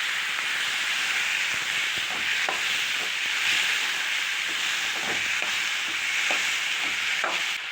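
Chopped tomatoes sautéing in a pan for a Tirunelveli-style sundakkai kulambu, with a steady sizzling hiss throughout and occasional soft scraping as a spoon stirs the mix.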